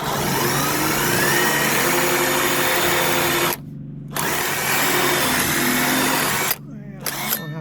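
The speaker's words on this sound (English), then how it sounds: "Makita impact driver." A Makita impact driver runs in long, loud, steady whirring stretches close by during joist bracket installation in home construction, broken by two short pauses before starting again.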